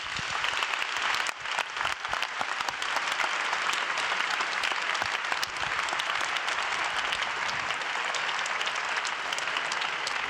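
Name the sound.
audience applause after speech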